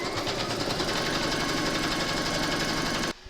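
An embroidery machine stitches a placement outline for an in-the-hoop cherry coaster with a steady, fast, close mechanical hum and rattle that runs unbroken and then stops abruptly near the end.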